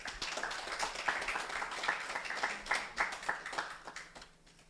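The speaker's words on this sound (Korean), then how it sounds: "큰 박수로 함께 인사 나누시도록 하겠습니다." Audience applause at the founding meeting of a Bukchon urban regeneration residents' council, a steady, moderately loud patter of many hands clapping that runs throughout and fades slightly at the end.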